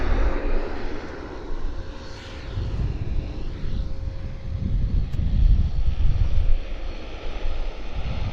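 A Lufthansa Boeing 747-400 airliner comes in to land at Vancouver Airport, its broad low engine roar held steady and fairly loud throughout, with light wind rumble on the microphone.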